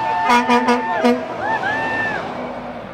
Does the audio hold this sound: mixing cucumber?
no